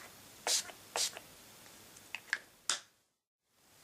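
Urban Decay All Night 16-hour setting spray misted from a bottle at close range, several short hissing spritzes in an uneven rhythm, quiet overall, then silence.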